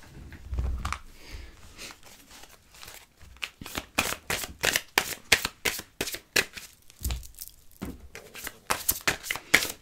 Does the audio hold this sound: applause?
no